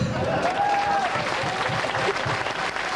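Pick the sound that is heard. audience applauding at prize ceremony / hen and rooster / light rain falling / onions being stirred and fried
audience applauding at prize ceremony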